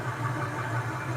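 A car engine idles steadily with a low, even hum and faint valve train noise, close and alone with no talk.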